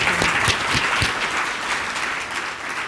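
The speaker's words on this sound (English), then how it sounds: "Can you welcome me in giving Penny a round of applause?" Audience applause for keynote speaker Penny Abeywardena at a global symposium lunch, a steady dense clapping that holds fairly even throughout with a few sharper claps near the start.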